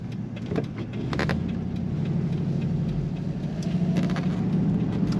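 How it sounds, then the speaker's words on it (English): A 1975 Mercedes-Benz 450SL convertible with automatic transmission driving, heard as a steady low engine and road rumble from inside the car with a few faint clicks and knocks. "This afternoon we're driving a 1975 Mercedes 450 SL."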